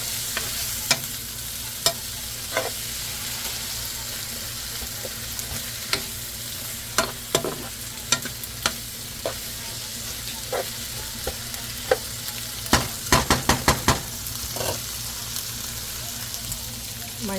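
Tomatoes go into a sizzling pan of onions and tofu, a steady close frying hiss broken by sharp clacks of stirring utensils against the pan, with a quick cluster of scraping strikes near the end.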